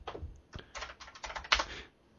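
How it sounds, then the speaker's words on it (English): Fast, irregular clatter of keys on a computer keyboard, with bursts of close, crisp taps and a louder cluster near the end, heard alone without talk. "I'm typing at the keyboard."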